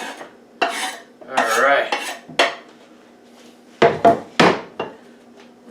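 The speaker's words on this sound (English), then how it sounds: "Now, dump it into the pan. Into the frying pan." Steak dumped into a frying pan, followed by a series of sharp clanks and scrapes of metal pan and utensils in separate bursts with quiet gaps between. Someone briefly speaks.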